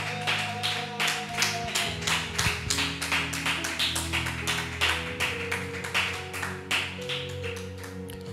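A church congregation claps steadily in rhythm to acclaim Jesus, a dense run of loud, even claps over sustained music tones, with no talking.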